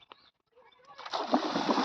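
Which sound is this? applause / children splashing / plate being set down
children splashing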